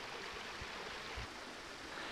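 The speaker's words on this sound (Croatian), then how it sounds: "Evo vidite, pokraj potoka." A mountain stream runs beside a hiking trail on Medvednica, giving a steady, soft rush of flowing water with a few low thumps and no voices.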